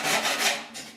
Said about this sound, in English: file it right out